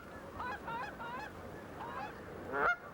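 Geese honking, answering a woman's goose calls out on a Dakota farm: a few faint, distant nasal honks in a short ragged series, ending with one louder, closer honk.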